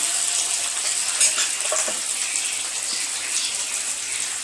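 Ginger pieces sizzle steadily in hot oil while a gooseberry pickle is cooked, giving a close, continuous hiss and crackle with no voices.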